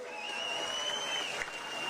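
A political rally crowd in Pathankot, Punjab, claps in a steady, soft, distant patter, with a thin high electronic whine riding over it.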